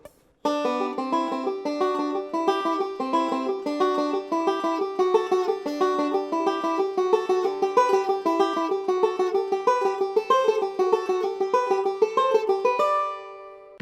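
A banjo picks a quick, steady run of paired-note double stops, going up a fourth, down a third and back up, climbing gradually up a scale, bright and close, with no voices.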